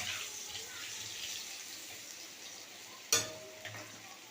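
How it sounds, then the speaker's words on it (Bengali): Potatoes frying in oil with cumin, dried chili and bay leaf for a vegetarian cabbage curry, a soft, steady sizzle with one sharp clatter of a utensil against the pan near the end, fairly quiet and with no talking. "এরপর এবার দিয়ে দেবো আলু ভাজার জন্য, আমরা আলু দিয়ে দিচ্ছি। নাড়িয়ে নেবো ভালো করে একটু।"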